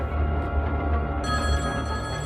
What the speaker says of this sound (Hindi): ओ, रिंग बज रही है भाई।